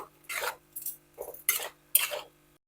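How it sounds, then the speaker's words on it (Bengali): Pointed gourd and potato curry being stirred with garam masala powder: four separate bursts of a spoon scraping and clinking against the pot, evenly spaced, close and moderately loud, no talking. "মশলার গুঁড়ো দিয়ে ভালো করে মিশিয়ে দেব"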